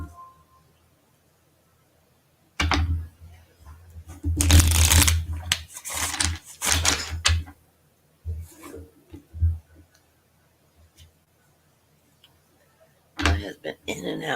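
Cards are shuffled in several loud riffling bursts with short pauses between, close up and mostly on their own.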